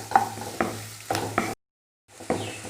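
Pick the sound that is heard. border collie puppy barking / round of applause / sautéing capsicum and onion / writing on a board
sautéing capsicum and onion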